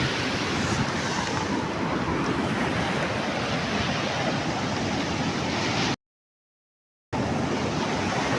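Sea waves at Shiali beach roll in as a loud, continuous roar of surf with wind buffeting the microphone, briefly cut to silence before the roar resumes.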